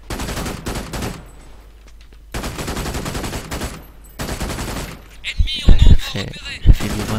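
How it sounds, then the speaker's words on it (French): Rapid bursts of gunfire crackle loudly in the video game Brink, with sustained volleys separated by brief pauses and then sharper single blasts of a pump-action shotgun near the end, while someone talks over the action. "Là, vous voyez un fusil à pompe"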